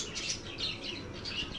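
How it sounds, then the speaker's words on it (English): Birds chirp and tweet in a light, steady chorus on a morning street in the Lal Kuan neighborhood of Old Delhi, near Chandni Chowk, with repeated high calls over a low bed of city background noise. "Those birds seem to be greeting you and greeting me."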